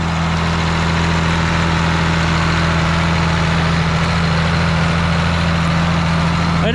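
Ford tractor driving a manure spreader's spinning drive shaft, a loud, constant low engine drone with a steady mechanical whir, close by and unbroken throughout, no voices.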